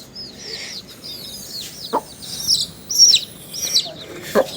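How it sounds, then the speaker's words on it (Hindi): Chickens let loose around a rural Indian home cluck and chirp in short, scattered calls, some close and some farther off, over a quiet outdoor background. "मैंने मुर्गियों को छोड़ दिया है"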